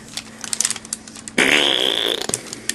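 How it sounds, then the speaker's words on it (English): A loud, drawn-out fart sound with a rising, squeaky tone lasting under a second, preceded and followed by scattered small clicks and handling noises from a toy figure. "Taking a big fart."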